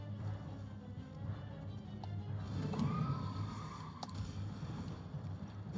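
A horse in Elden Ring gives a brief, faint neigh midway through, set low against a steady murmur of game ambience and soft scuffing, with no voices heard.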